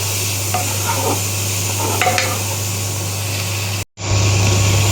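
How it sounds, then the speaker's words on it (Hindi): Steady sizzling of onion, tomato, spices and garlic-ginger paste frying in a hot pan for egg kheema masala, with soft stirring scrapes, a brief dropout near the end, and no talking. "प्याज टमाटर सभी मसाला और साथ में लहसुन अदरक का पेस्ट, तो सब कर लेते हैं अच्छे से पूरा फ्राई।"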